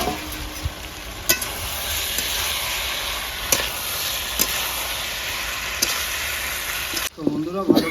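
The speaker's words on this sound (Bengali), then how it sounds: "ভালো করে আলু আর ফুলকপি আমি গ্রেভির সঙ্গে কষিয়ে নিয়েছি" Potatoes and cauliflower being fried and stirred in gravy in a pan for a Bengali fish curry, a steady loud sizzle with periodic scraping clicks of a spatula, ending in a brief clatter.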